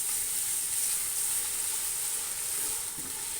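Boiled, shredded chicken sizzles steadily in a pan with lightly golden onions, a continuous close frying hiss for the whole stretch with no talking.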